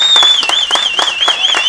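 Guests at an anniversary party break into brisk, lively clapping, with a loud warbling whistle-like tone running over the applause throughout the short burst.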